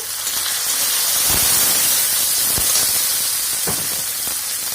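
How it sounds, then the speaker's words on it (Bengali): Chopped onion, garlic and green chilli tipped into hot oil, giving a loud, steady sizzle and hiss with a few soft clinks from the pan, close up and with no talk. "তেল গরম হয়ে গেছে এবার আমি এই যে পেঁয়াজ রসুনগুলো দিয়ে দিচ্ছি লঙ্কা দিয়ে দিচ্ছি কাঁচা লঙ্কা"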